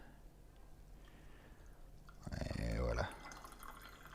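Freshly brewed tea is poured into a cup, a short burst of splashing liquid lasting under a second. A quiet voice speaks just before the pour.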